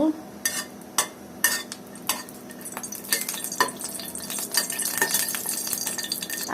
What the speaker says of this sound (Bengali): শুকনো মরিচটা আমি ভেজে নেব